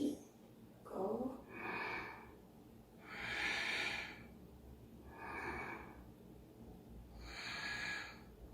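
Deep, slow breaths during a yoga neck exercise, close and quiet, with four or five long breathy exhalations spaced a couple of seconds apart.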